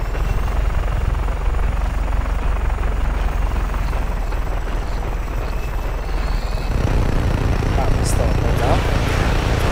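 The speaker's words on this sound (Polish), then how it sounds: "Widać, że to jest specjalnie na zamówienie dla Diravelo śmigłowiec." Helicopter in the video game Just Cause 3, a steady loud rotor and engine drone throughout, with the low rumble growing heavier near the end and a voice talking over it.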